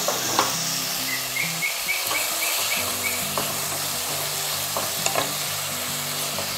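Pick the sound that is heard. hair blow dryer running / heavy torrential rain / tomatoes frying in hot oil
tomatoes frying in hot oil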